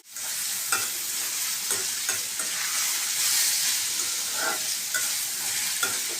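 Food sizzles steadily in a hot pan on a stove while a spoon stirs it, a constant close frying hiss with soft periodic scraping, and no voices.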